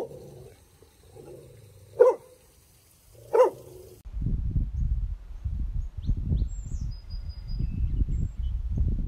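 A fostered shelter dog gives two sharp, separate barks in a quiet room. A steadier rustling and low thudding noise follows and carries on to the end.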